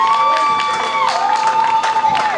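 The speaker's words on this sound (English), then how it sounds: "Y'all give him a round of applause." Crowd at an outdoor rally in Valdosta, Georgia, cheering and clapping loudly with shouts and whistles mixed in, a continuous near roar.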